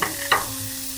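Onions fry in a pan with a steady close sizzle, broken by one brief scrape of stirring partway through.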